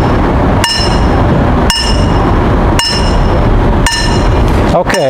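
Four sharp hammer strikes on a metal pipe, evenly spaced about a second apart, each ringing with a bright clang before fading.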